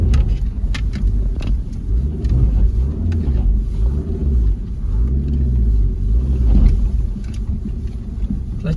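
A motorbike engine labours and revs while climbing a rocky road at night, with the clutch held in. The loud rumble rises and falls with pitch sweeps, and rattles and knocks ride over a continuous growl.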